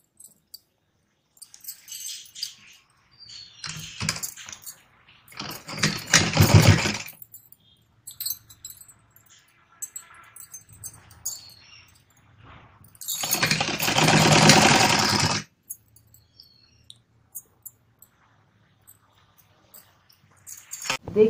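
A sewing machine stitching a blouse, running in two long bursts of rapid mechanical whirring with shorter starts and pauses between, close and clear.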